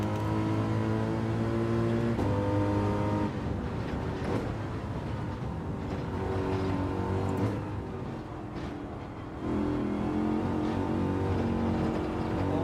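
In Gran Turismo 7, a Subaru BRZ race car engine drones loud and close on track. It climbs and falls in pitch through gear changes and a brief lift around the middle of the run.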